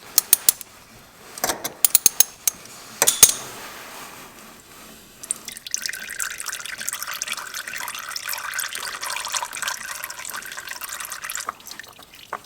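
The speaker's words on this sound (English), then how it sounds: "some oil is going to leak out" Engine oil draining from an ATV onto shop towels: a few scattered drips and taps at first, then a steady thin trickling stream running on to the end.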